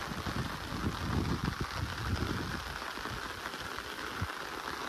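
Steady rain falling outdoors, a continuous dense patter with a low rumbling wash, at an even level throughout and without speech.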